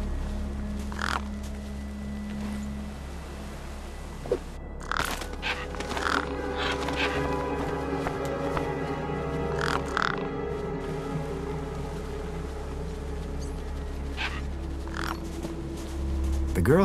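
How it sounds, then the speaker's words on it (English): Crows cawing over a feast in the game Beyond A Steel Sky: repeated harsh caws from several birds at irregular intervals, fairly close, over a low steady ambient drone with occasional flutters and scuffles. "No way I was going to get between those birds and their feast."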